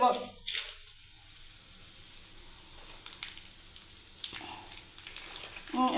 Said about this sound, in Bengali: বাটার একটু দিয়ে দিচ্ছি তাওয়াটার উপরে